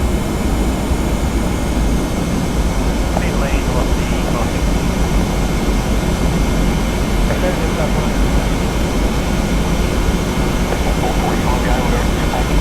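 Qantas Boeing 717-200 jet in the Prepar3D v4 flight simulator on landing approach, with a steady, loud engine and airflow drone that runs unbroken throughout.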